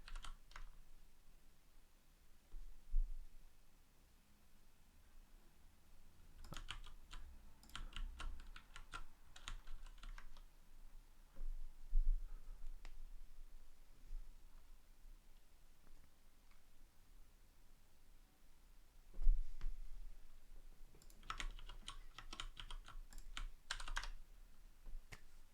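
Computer keyboard during programming work, with quiet, close typing: scattered single keystrokes and a few faster bursts of clicking, separated by near-silent pauses.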